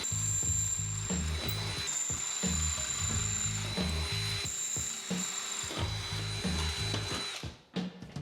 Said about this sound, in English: I'm only drilling because of the bolt size I'm using